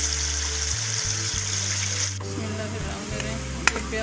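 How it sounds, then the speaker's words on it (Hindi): Onions frying in a pan with steady sizzling and occasional stirring, fairly close and continuous, a low background hum underneath, with one brief sharp clink near the end. "ये प्याज फ्राई हो गया"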